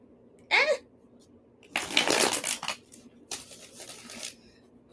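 Deck of tarot cards being shuffled in short bursts, a quick riffle followed by a longer fluttering flurry and a softer final run of card clicks, over quiet room tone.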